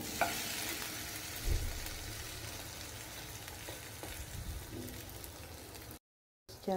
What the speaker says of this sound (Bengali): উল্টো পাশটা ভাজা হয়ে গেলে এটাকে আমি আলতো হাতে একটু উল্টে দিব যেন খুলে না যায়।